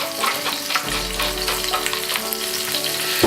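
Chicken breast seasoned with salt and cracked black pepper sears in a hot pan over medium-high heat, a dense steady sizzle and crackle with a low hum beneath, close and continuous without speech.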